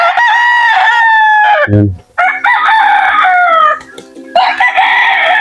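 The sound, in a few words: Texas and native chickens crowing and clucking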